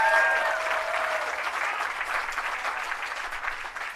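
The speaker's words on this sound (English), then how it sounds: "Let's give her a round of applause." Sustained audience applause at an outdoor Hollywood Walk of Fame star ceremony, a dense wash of clapping that starts loud and stays steady, slowly easing off over a few seconds, with no speech.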